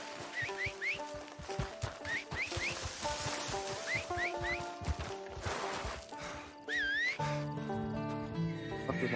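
Horses repeatedly neigh and whinny over busy clip-clopping hooves and layered music in a Wild West video game, with a sharp rising whinny near the end standing out loudly.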